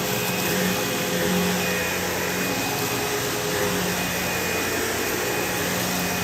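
A Sebo X4 Automatic upright vacuum cleaner runs steadily on a bare floor, a loud constant whine and airflow roar with a fixed high tone, no speech.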